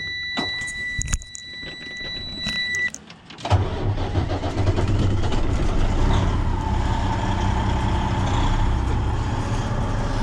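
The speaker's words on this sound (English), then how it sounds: "All right, we'll start the truck up." A few clicks and a brief beep, then a cold truck engine cranks and catches, settling into a loud, steady rumble that runs to the end.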